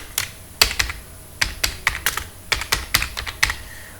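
Quick bursts of typing on a computer keyboard, close and clear, with uneven clusters of sharp key clicks separated by brief pauses and no talking.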